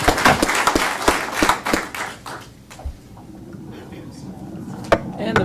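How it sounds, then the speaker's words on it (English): Audience at a city council meeting applauding, a burst of clapping that fades out over a few seconds, followed by scattered thumps and light room noise. "So let's give them one more round of applause."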